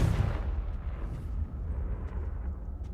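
Blasting spell explosion in the Hogwarts Legacy video game: a loud, low rumbling boom that opens strongly and rolls on with a sustained deep roar, no talking over it.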